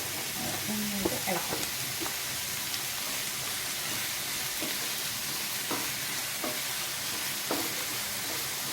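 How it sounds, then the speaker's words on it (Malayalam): Chopped tomatoes are stirred into a hot frying pan, giving a continuous loud sizzle with repeated scraping strokes of the spoon against the pan, close up, with faint bits of voice near the start. "തക്കാളി ഇട്ടിട്ട് നന്നായിട്ട് ഇളക്കാം."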